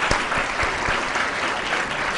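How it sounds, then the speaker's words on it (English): An audience applauds at a lecture, a steady dense patter of many hands clapping that fills the short stretch without a break. "Let's give a big round of applause and thank you."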